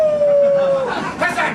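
A man imitates a dog howling while on his knees aboard a tram, a long steady falling howl that breaks into rougher yelping sounds near the end.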